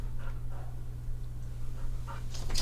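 A dog pants in quick, rhythmic breaths close to the microphone over a steady low electrical hum.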